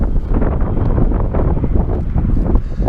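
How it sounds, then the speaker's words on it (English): Strong wind buffeting the microphone on a mountain outcrop, a loud continuous rumbling roar with gusty swells, close and unbroken throughout. "I don't know if I'm speaking loud enough to be over the wind,"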